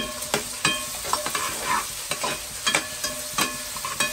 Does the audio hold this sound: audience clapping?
no